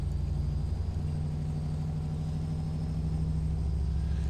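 A truck engine in Euro Truck Simulator 2 runs at a steady cruise, producing a constant, loud low drone with a firm harmonic hum and no noticeable change in pace.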